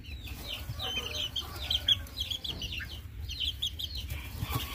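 Three young roosters cluck and chatter in quick, uneven bursts close by, with sharp squawky calls overlapping a steady low rumble of background noise.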